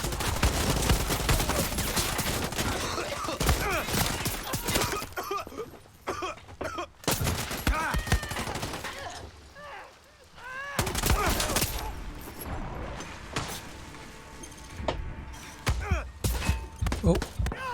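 Gunfire from enemies shooting at the player in Far Cry 6, bursts of shots and thuds coming in dense clusters over a busy game mix, with brief quieter gaps and a voice talking over parts of it.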